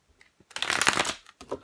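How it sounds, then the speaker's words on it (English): Tarot cards being shuffled by hand, a brisk riffling flutter of about half a second followed by a couple of shorter rustling bursts, close and clear with no talk. "I'm going to do one more big girl shuffle actually for you"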